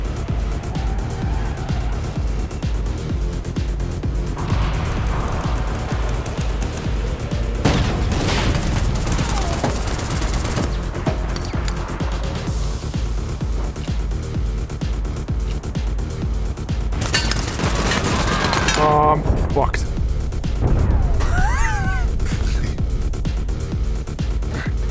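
Dense, continuous gunfire from the online shooter game APB Reloaded, with loud bursts and booms layered over a constant rumble of game noise and passing cars, and a few sharper volleys near the end.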